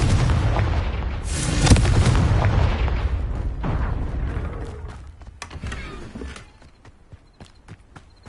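Confringo blasting spell explosions in the Hogwarts Legacy video game, a heavy booming blast with rumbling debris and crackle that decays into scattered clatter and fading impacts, loud and close.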